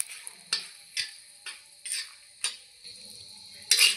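Dried red chillies fry in hot oil until crispy for mashed potatoes, a quiet sizzle broken by several sharp stirring clinks and scrapes of a utensil against the pan.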